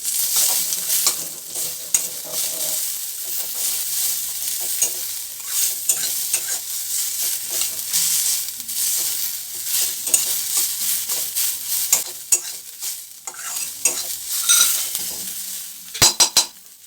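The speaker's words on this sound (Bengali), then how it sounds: "ফোড়নটা ভালো করে ভাজা হয়ে গেলে এতে কেটে রাখা পেঁয়াজটাও দিয়ে দেবো" Chopped onion frying in hot oil with cumin seeds and asafoetida while being stirred, a steady close sizzle with scraping strokes of a spoon against the pan and a few sharp clinks near the end.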